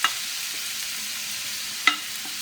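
A meat and vegetable mix sizzles in a preheated pan, a soft steady hiss broken by two sharp clinks of a utensil, one at the start and one near the end.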